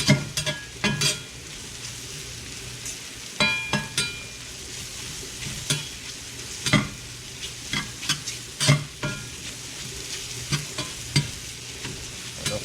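Mushrooms fry in butter in a Lodge cast iron skillet at a camp, a constant sizzle underneath repeated sharp scrapes and knocks of a utensil stirring, spaced unevenly throughout.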